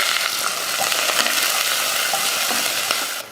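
Onion sizzling in hot oil with mustard seeds, urad dal and curry leaves for a Tamil Pongal vegetarian lunch, a steady close frying hiss with faint stirring scrapes throughout.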